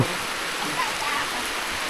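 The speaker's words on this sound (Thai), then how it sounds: "โอ้ยฝนตก" Rain falls in a rural Lao village as a steady, even hiss of dense drops, fairly close and continuous, with no voices over it.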